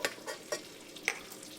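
Gochujang, a spicy red pepper paste, mixed into vegetables with a few quick scraping stirs and light clinks over a faint sizzle, brief and close, with no one talking.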